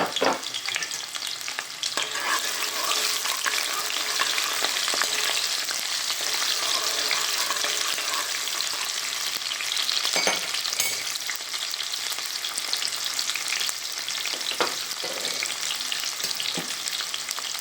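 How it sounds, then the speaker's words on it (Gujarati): Onions frying with cumin seeds in hot oil in a pan, a loud continuous sizzle close up with scraping stirs and occasional clatters throughout, no talking. "આપણે જીરું થઈ જાય પછી આપણે ડુંગળી નાખવાની એમાં લોકલ ડુંગળી"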